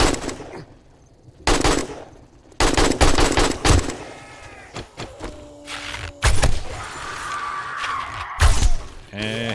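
Gunfire in the video game 7 Days to Die during a horde night, with loud bursts of rapid shots and single cracks scattered through the scene, mixed with thuds and impact sounds and a voice talking.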